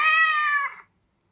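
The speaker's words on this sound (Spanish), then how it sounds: "la imitación del maullido del gato" A single clear cat meow, bright and tonal, rings out for under a second and then cuts to silence, with no voices present.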